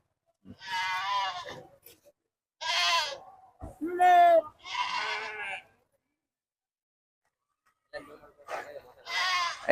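At a rural sheep market, sheep and goats let out loud, wavering bleats in separate bursts with short silences between, close by.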